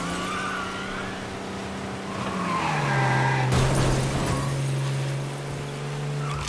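A car wrecks in Mafia Definitive Edition, with a steady engine drone and skidding tires that end in a sudden loud crash burst midway, followed by lingering engine hum.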